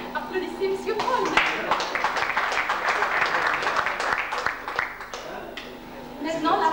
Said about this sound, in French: Applaudissez M. Paul.